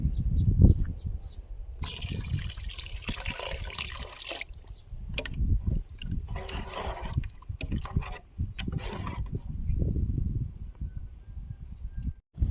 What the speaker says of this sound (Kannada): ನಾನು ಇನ್ನೊಂದು ಸ್ವಲ್ಪ ನೀರು ಹಾಕ್ತಾ ಇದ್ದೀನಿ